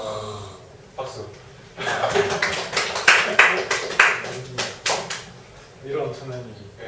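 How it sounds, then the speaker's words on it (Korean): A small audience at a group lecture breaks into scattered hand claps that swell for a few seconds and then fade, with voices and a little laughter around them. "박수."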